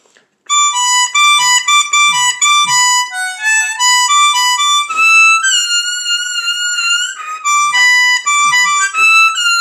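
Harmonica blues in fifth position, high bent notes on the 10 blow wailing and sliding in a lively phrase of short and held notes, close and fairly loud, played solo.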